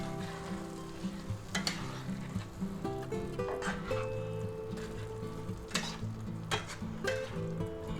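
Shrimp get stirred into lobster sauce in a hot pan, with a soft steady sizzle and occasional scraping clinks of the utensil against the pan, fairly quiet and close.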